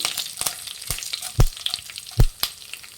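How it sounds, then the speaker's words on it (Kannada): Curry leaves, Byadgi chillies and chana dal fry in hot oil with mustard seeds, a close, steady sizzle broken by sharp pops and crackles and a couple of louder spatters. "ಕರ್ಬೇವಿನ ಸೊಪ್ಪು ಹಾಕ್ಕೊಳ್ಳೋಣ. ಬ್ಯಾಡಗಿ ಮೆಣಸಿನ್ಕಾಯಿ, ಕಡಲೆಬೇಳೆ ಹಾಕ್ಕೊಳ್ಳಿ."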